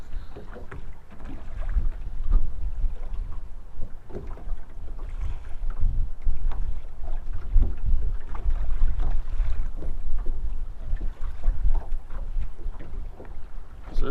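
Strong headwind buffets open water around a small fishing boat with a Minnkota Terrova 12-volt trolling motor, a steady loud rumbling roar of wind on the microphone with no talking.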